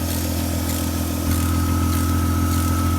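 A 2005 Hyundai Tiburon with a brand-new alternator runs after a jump start, its engine idling in a steady, close, loud hum. Partway through, the note shifts slightly lower and fuller. No one speaks.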